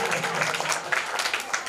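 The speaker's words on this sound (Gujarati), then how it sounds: "એને તાળીઓના ગડગડાટથી વધાવીએ" Audience at a children's prize-giving ceremony gives steady, moderately loud applause, a continuous patter of many hands clapping together.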